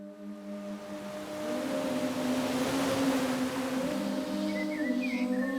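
Costa Rica ambience: a steady, moderately quiet wash of ocean waves with faint tonal hums running underneath and brief higher chirps toward the end, no voices present.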